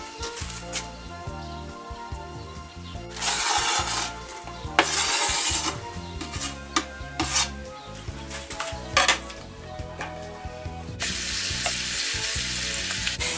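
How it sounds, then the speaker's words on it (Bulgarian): Peppers frying in oil in a pan, loud sizzling bursts alternating with the clatter and scrape of stirring utensils against cookware, ending in a steady crackling fry. "Слагаме в тигана да се запържи заедно с чушките."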